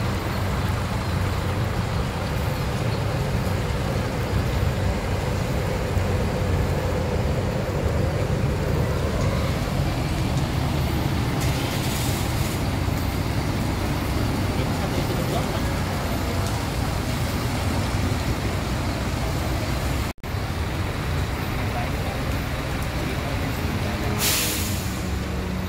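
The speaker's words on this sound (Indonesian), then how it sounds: "terlihat PO Pandawa 87 julukan Sinovac melintas." A PO Pandawa 87 'Sinovac' bus moving through Jombor bus terminal in Yogyakarta, a steady close engine rumble with idling traffic noise and two short hissy bursts like air brakes, sustained for the whole stretch.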